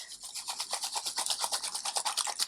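Tarot cards being shuffled close up, a quiet run of rapid papery rasps and riffles with an uneven, continuous rhythm.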